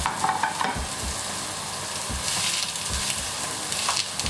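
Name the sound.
beef-stuffed aubergines searing in a frying pan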